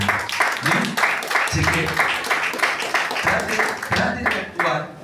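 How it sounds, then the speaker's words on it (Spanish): Congregation at a church service clapping hands for the Lord, with loud, rhythmic group clapping in repeated bursts mixed with a speaking voice and background music. "Regálale fuerte palmas al Señor."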